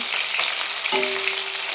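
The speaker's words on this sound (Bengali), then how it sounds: "তারপর অন্য মাছগুলো একইভাবে ভেজে নিচ্ছি" Fish fries in hot oil with a dense, steady sizzle and crackle, close and continuous, with a brief scrape midway.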